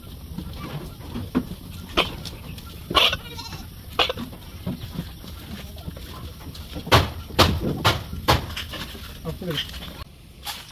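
Several goats bleat close by in repeated short, loud calls, with a few bursts coming together in quick succession. A person talks between and under the bleats.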